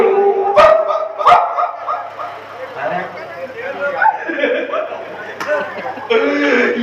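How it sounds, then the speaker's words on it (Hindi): Several dogs bark and yelp in a mythological drama scene, with two sharp loud bursts near the start and one later, amid a busy mix of voices and background sound. "ये देवलोक कुत्ते कहाँ से आ गए?"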